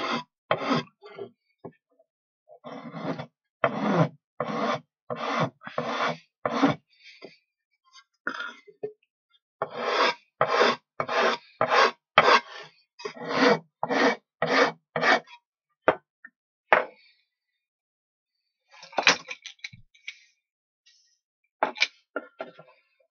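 Filing protruding toothpicks flush on a plywood chuckbox, rhythmic rasping strokes in quick runs of five or six, separated by brief pauses, close and clear with no talk.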